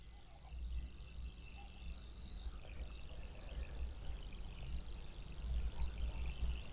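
A sewing machine stitches a collar neck with a steady, faint mechanical whir and rapid needle chatter that runs continuously in the background.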